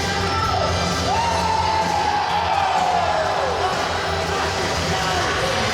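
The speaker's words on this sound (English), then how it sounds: "the crowd here at the Nest, Endicott College, absolutely loving it" A crowd at a wrestling show in the Nest arena at Endicott College cheers and shouts in a continuous roar, with a long rising whoop standing out, heard at a distance under steady noise.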